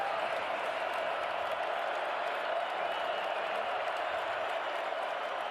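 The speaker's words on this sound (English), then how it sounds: "The Bison crowd will try to be heard from here on a 3rd down and 8" A football stadium crowd at a Bison home game roars steadily on third down and eight, a dense, continuous wash of cheering and noise with no breaks.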